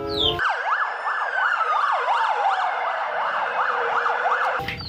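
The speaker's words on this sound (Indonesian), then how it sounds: "ada mobil ambulan teman-teman" Toy ambulance siren wailing loudly in a steady, rapid up-and-down electronic pattern for several seconds, close by, with no talking over it.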